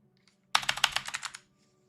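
A burst of quick, close keystrokes on a computer keyboard rattles for under a second, then stops.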